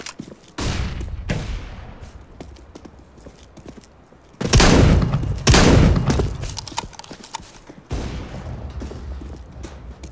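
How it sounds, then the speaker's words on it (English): Gunfire and a grenade blast in competitive Counter-Strike: Global Offensive gameplay, loud broad bursts around the middle with scattered shots before and after. "Flashbang."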